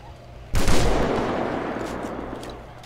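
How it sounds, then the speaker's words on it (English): A single loud gunshot fired at a fox in FiveM roleplay, a sharp crack followed by a long rumbling echo that fades slowly against a low background hum. "I'm gonna shoot this fox."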